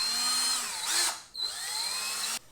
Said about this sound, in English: get a little drill out that we can do a little pilot hole with